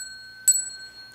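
A small hand bell is struck once before Buddhist bowing at a lecture, leaving a bright, clear ring with steady high overtones that hang on quietly, heard alone.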